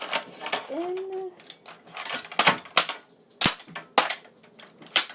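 A toy gun clicks and snaps as it is loaded, then fires a series of sharp cap-like pops at uneven intervals, close by, with a brief rising squeak early on.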